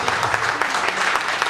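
Dense, steady clapping from a church congregation, loud and continuous throughout with no gaps.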